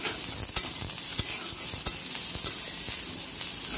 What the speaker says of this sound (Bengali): তেলের উপরে দিয়ে দেব পেঁয়াজ কুচি